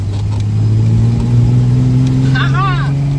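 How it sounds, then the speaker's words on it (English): A 1976 Triumph TR6 engine runs steadily on a short neighborhood test drive, its low even drone holding close and loud throughout, with a faint higher squeal near the end. "But you can hear the engine is nice."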